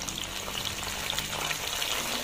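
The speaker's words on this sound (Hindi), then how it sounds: "टमाटरों को नरम होने तक फ्राई करेंगे।" Tomatoes sizzle with browned onions in a pan for a village-style chicken dal chana, a steady, soft frying hiss with no voices.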